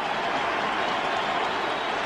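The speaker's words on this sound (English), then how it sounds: "Listen to this crowd." Packed basketball arena crowd at Staples Center cheering and applauding in a steady, dense roar that holds at full strength throughout, with no distinct voices standing out.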